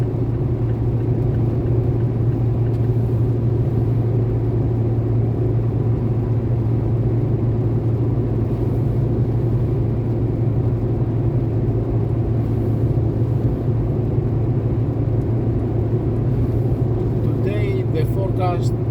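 Steady engine and tyre rumble from inside a car cruising a highway in Greece between Volos and Glyfa on a cloudy, rainy day, continuous and even throughout with no passing traffic.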